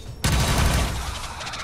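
A soldier's weapon fires in the video game XCOM 2: War of the Chosen, one sharp loud blast followed by a dense roaring burst that holds steady, with no talking over it.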